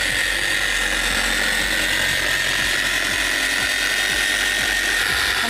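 A Mothers Wax Attack polisher runs on low speed against a painted car surface, a steady, loud mechanical whir holding constant throughout with faint rhythmic ticking beneath it.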